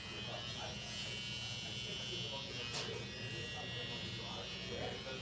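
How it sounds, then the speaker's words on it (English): Close up, an electric hair clipper trimmer buzzes steadily as it cuts hair during a fade haircut, a constant motor hum with slight shifts as it moves along the head. "it's just pushing the clipper, pushing the trimmer up, in,"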